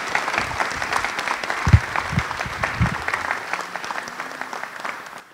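An audience at a 75th anniversary D-Day presentation at an air museum applauds the presenter, with steady dense clapping and a few louder low thumps near the microphone.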